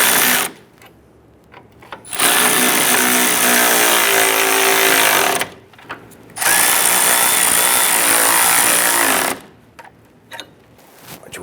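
A power tool snugs down the rear lower forward control arm bolts on a 2005–2010 Chrysler 300. Two loud, close whirring bursts of several seconds each are separated by short pauses.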